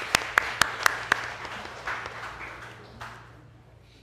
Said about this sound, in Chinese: 按拍手欢迎